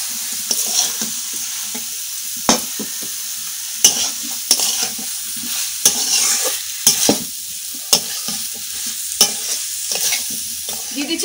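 Fried potatoes, carrots and cauliflower sizzle steadily in a pan in a village kitchen, with a spatula scraping and stirring in irregular clacks over the constant hiss.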